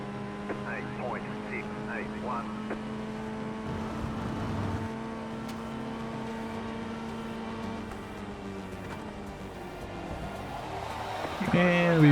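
An FF1600 formula car engine drones in an iRacing sim race, a steady tonal hum that shifts pitch with other cars nearby, under a voice talking.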